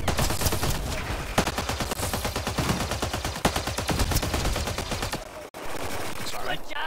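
Rapid automatic bullet-weapon fire in Mass Effect Andromeda, a dense, sustained stream of sharp shots with a few louder cracks, loud and continuous for most of the stretch with a brief gap near the end.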